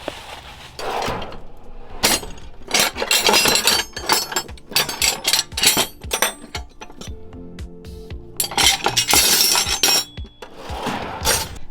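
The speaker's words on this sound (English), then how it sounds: "Let me get a wrench and see if I can get these off." A wrench working loose the side-post battery terminals on a Fiero GT left sitting for fifteen years, with a busy run of sharp metallic clinks, ratcheting clicks and knocks coming in bursts, close up and with no talking.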